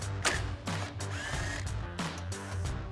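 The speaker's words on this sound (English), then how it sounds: "Continuing with a 10mm socket, we're going to remove the 3 bolts on the inside of the fender here to get the front fascia off." Power tool spinning a 10mm socket to remove bumper bolts inside the fender of a 2004-2008 Ford F-150, several short whirring bursts with brief pauses and metallic clicks, close up.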